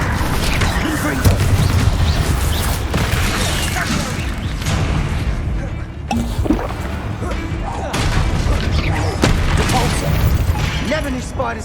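Loud, dense fire-blast spell explosions burst from Hogwarts Legacy combat, with booming crashes and debris layered continuously over a busy game soundtrack.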